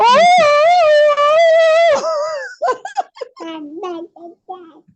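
People imitate dogs greeting each other in a class, with a long wavering howl-like vocal followed by short yips, whimpers and barky sounds, close and loud.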